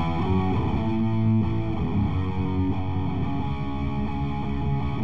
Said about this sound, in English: it is too distorted now